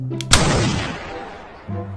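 A toy FN pistol lets out one sharp electronic gunshot burst that fades over about a second, with short beeping tones just before and after.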